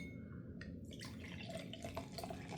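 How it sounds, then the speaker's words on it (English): Boulevard Baltic Porter beer poured into a goblet chalice glass, a continuous liquid pour with splashing and gurgling over a steady background hum. "Poured to this goblet chalice type glass."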